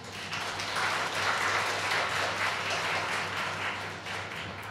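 Church congregation applauding during a Thai sermon, a continuous crowd of hands clapping at moderate, even volume, swelling slightly in the middle and easing toward the end, with no speech over it.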